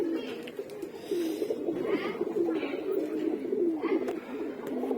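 Flying pigeons kept on a Bangladeshi rooftop coo steadily, a chorus of low, rolling calls repeating close by with little pause, faint voices now and then in the background.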